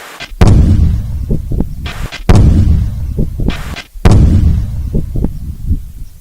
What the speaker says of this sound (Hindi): सेना के जवानों ने धमाके के जरिए बम को डिफ्यूज किया है